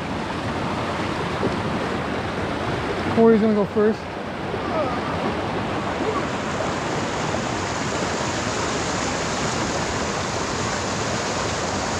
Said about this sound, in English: We are going to cross this treacherous water.